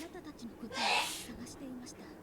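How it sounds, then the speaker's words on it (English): A loud sneeze bursts out once, sharp and breathy, over a steady background of talk. "I don't know if y'all heard that loud ass fucking sneeze out there."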